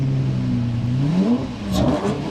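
A Lamborghini at a Cars and Coffee meet revs hard and close: a loud, sustained engine note climbs and swells, dips briefly, then surges again in a second rising rev.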